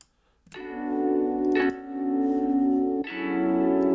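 Bright piano chords rolled quickly note by note by an Ableton strum MIDI effect, each ringing out with effects-laden sustain; three chords in a row, no talking.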